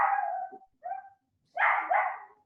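A dog barking indoors nearby: a few loud, drawn-out barks and yips in quick bursts separated by short silences.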